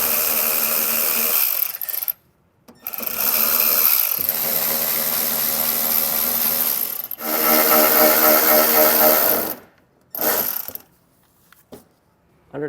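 Power tool running in several long bursts while removing 7mm-head fasteners from a 2018 Chevrolet Colorado, whirring for a few seconds at a time with short silent gaps and a brief final burst.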